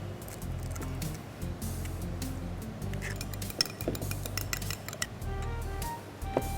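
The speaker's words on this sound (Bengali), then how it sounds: "আমি এখন ডিমটা ফেটিয়ে নেব" An egg is beaten in a bowl with quick, irregular metallic clinks and taps of utensil against the dish, close and fairly soft, with a low kitchen hum beneath.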